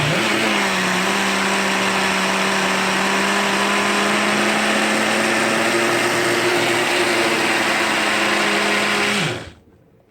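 An electric mixer steadily beats raw milk cream into butter, a loud continuous whirring motor hum with a steady pitch for about nine seconds before switching off abruptly into silence.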